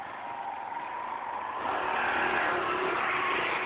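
Motorcycle engine revving hard while stuck in a swampy bog, a steady mid-pitched drone that swells louder and strains higher in the second half.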